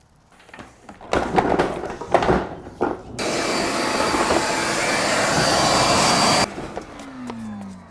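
A shop vacuum sucks debris from the air system of a 2004 Lexus RX 330, with rat-chewed ducting. Knocks and handling noises lead into a loud, steady suction roar that holds for several seconds, then cuts off.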